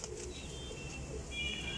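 Flying pigeons of a high-flying breed, kept for sale, coo softly and steadily in their loft, faint and low beside a faint higher chirp, with no talk.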